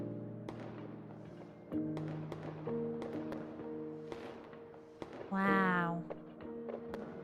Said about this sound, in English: I've never seen silver fireworks before.